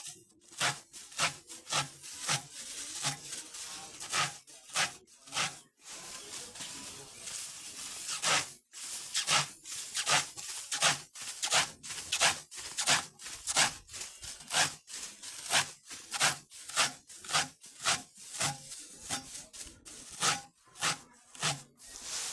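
A handsaw cuts through wood during a cutting challenge, making loud rhythmic rasping strokes that repeat steadily and briefly speed up, with no clear speech.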